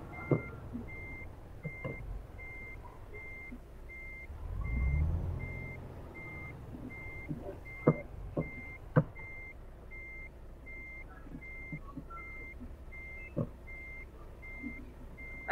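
In the Euro Truck Simulator 2 game, a truck's reversing alarm beeps steadily in an even repeating pattern while the vehicle rumbles faintly underneath, with occasional clicks and a brief low engine swell.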